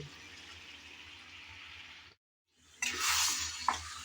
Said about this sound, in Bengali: চিংড়ি মাছ ভাজা দিয়ে দিলাম এখন নেড়ে চেড়ে ভালোভাবে তেলের মধ্যে বেজে নিতে হবে